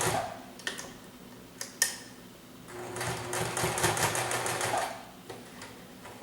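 Sewing machine stitching pleats into a cotton face mask, running in short bursts at first and then a steady, fairly close whirring run of several seconds before stopping, with no talking.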